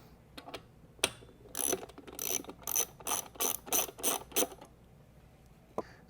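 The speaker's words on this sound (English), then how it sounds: "it's just held in by one screw, so we'll remove that or loosen it up" Screw on the plastic back cap of a WhisperFlo pool pump motor being loosened with a ratcheting driver, giving a run of about eight quick clicking ratchet bursts at close range, with no talking.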